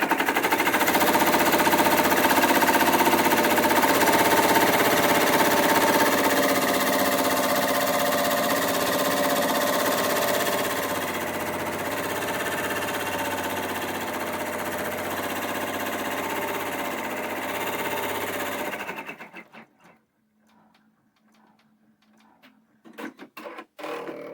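Embroidery machine running a placement stitch on a hooded towel, a steady fast mechanical whirring with rapid needle chatter that drops in level partway, then stops near the end leaving quiet handling noises.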